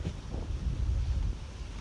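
Wind gusting loudly across an overcast hiking trail in Pennsylvania, a steady low rumble buffeting the microphone, swelling through the middle and easing at the end, with no voices.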